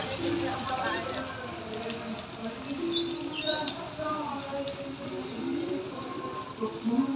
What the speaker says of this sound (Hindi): बारिश हो रहा है, फिर भी सब लोग लगे हुए हैं।